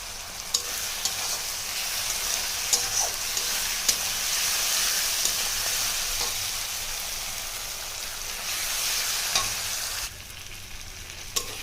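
Ginger-garlic paste and green chillies fry in hot oil for a chicken curry, a loud continuous sizzle with occasional spatula scrapes and taps, easing off briefly near the end.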